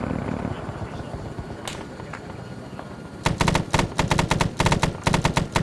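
Military helicopter in a simulated Vietnam War operation, rotor thumping through a steady low roar, then joined by loud bursts of rapid machine-gun fire in repeated volleys.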